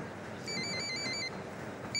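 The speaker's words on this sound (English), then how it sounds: "Inspector Ballard, I've got an urgent call from the man on the phone." A telephone rings twice with a bright, warbling electronic bell. Each ring is a short trill, fairly quiet over a low room hum.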